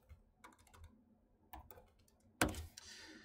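Computer keyboard typing in short, quiet bursts of keystrokes close by, with a louder flurry of clicks near the end and no voices.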